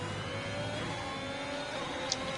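A race car engine in a sim racing game at Imola drones steadily with a whirring, mid-pitched tone, fairly faint and unbroken, with no talk over it.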